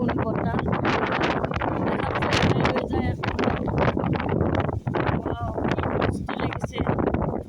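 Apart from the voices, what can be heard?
strong wind with light rain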